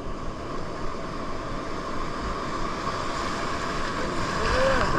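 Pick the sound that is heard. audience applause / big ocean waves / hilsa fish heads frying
big ocean waves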